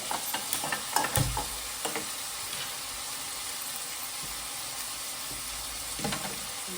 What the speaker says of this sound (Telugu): మెంతులు వేయించుకున్నాను.